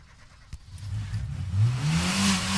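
Car engine cranking and catching, then revving up with a rising, building roar that grows louder and holds near the end, heard up close.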